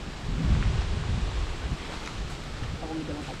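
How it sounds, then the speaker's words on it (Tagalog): Strong wind gusting outdoors among coconut palms and fruit trees, a loud continuous rumbling roar buffeting the microphone close up. "Wala, lakas ang hangin eh."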